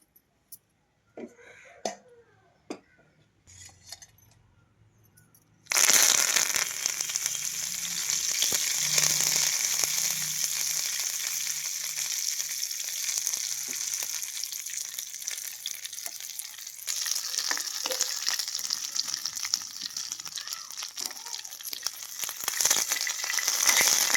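After a few quiet taps and clicks, cumin, curry leaves and dry red chillies hit hot oil in a pan, setting off a sudden loud sizzle that crackles on steadily and close by for the rest of the clip.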